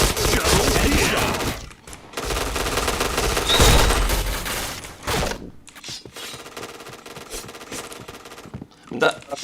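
Bursts of automatic gunfire in the shooter video game PUBG rattle loudly in several volleys separated by brief pauses, with some voices talking in between.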